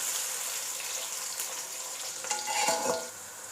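Onions frying in hot oil in a pan for chicken pulao, a steady close sizzle with a few stirring scrapes near the end.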